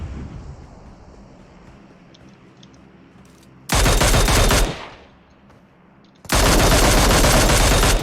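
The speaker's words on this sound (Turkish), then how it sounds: "Yine mi biri sıkıyor bana ya?" Automatic gunfire in the battle-royale shooter PUBG Mobile: two loud, dense bursts of rapid shots, each lasting a second or more and separated by a quieter stretch of low background rumble, no voices.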